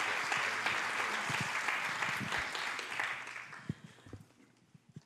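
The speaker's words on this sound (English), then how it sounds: "Let's give them a round of applause." An audience applauds at a Detroit Zoo gorilla conservation presentation, with dense, loud clapping that thins and fades into a few scattered claps by the end.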